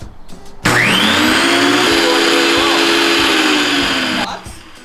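A Wen benchtop thickness planer switched on after repair, its motor whining up abruptly into a loud, steady high-pitched roar for about four seconds before cutting off and winding down, with faint voices before and after.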